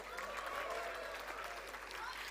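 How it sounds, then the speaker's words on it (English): Audience applause at a 2024 convocation award ceremony, a steady dense wash of many hands clapping throughout, fairly distant and faint, with a voice talking over it. "Let's clap."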